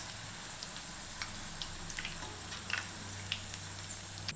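Okra pieces deep-frying in hot oil give a soft, steady sizzle with faint scattered pops and crackles throughout, fairly quiet and without any voices.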